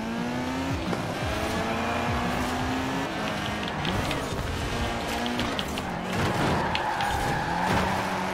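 Tires squeal through a drifting car in Forza Horizon 4, the engine note gliding up and down with shifting revs, loud and close, while a faint voice talks underneath.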